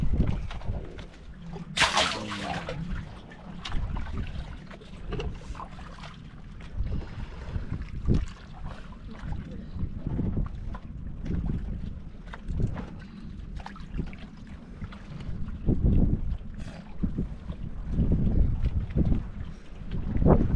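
Afternoon wind buffets the microphone steadily, a continuous loud rumbling roar with gusts rising and falling throughout, and a faint voice now and then.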